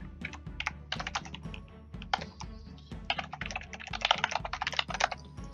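Someone types an email address on a computer keyboard in quick, close, uneven bursts of key clicks, with short pauses between runs and no talking.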